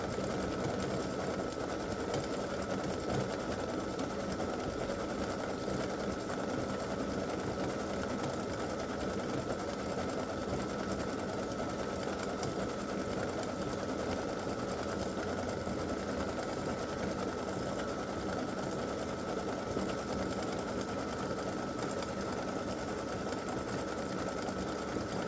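Embroidery machine steadily stitching the nose on a Christmas gnome design, a continuous mechanical whir and rapid needle chatter at an even level throughout.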